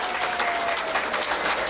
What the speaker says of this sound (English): Let's give a round of applause to everyone who took part